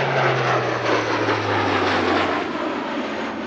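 At an airshow, an Airbus A400M turboprop transport passes with a loud, steady, droning propeller roar and a low humming tone that gradually fades.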